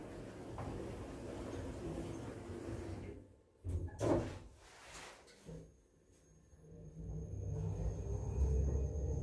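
Kone lift doors sliding shut in a hotel lift lobby, a brief soft rumbling slide lasting a couple of seconds amid steady low background hum, close and moderate in level.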